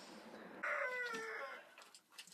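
A hen in a coop gives a drawn-out, crowing-like call, faint and somewhat distant, followed by soft clucks while feeding.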